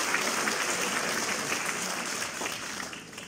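An audience claps steadily for a mayor and deputy mayor at a Greek music society concert in Stylida, the applause fairly close and sustained before slowly tapering off.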